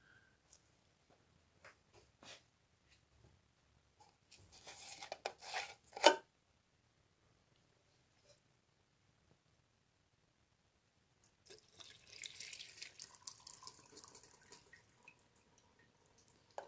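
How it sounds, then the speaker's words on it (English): Degreaser poured through a funnel drips and trickles out of the ram ways of a Bridgeport shaper attachment, with faint scattered drips, then two short bursts of splashing liquid, otherwise quiet. "I just got a funnel here, and I'm just running some degreaser down in there"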